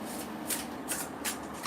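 Playing cards are shuffled close by in four quick riffling bursts, each a brief crisp flutter, separated by short pauses over a steady low room background.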